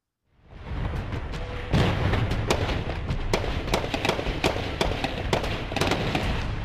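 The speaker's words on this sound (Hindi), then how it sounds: "तड़ातड़ चलती गोलियां, धमाकों की गूंज" Rapid bursts of gunfire crackle over a steady roar during the Pathankot terror attack, with repeated sharp reports and heavier booming explosions throughout, loud and dense, with no voices.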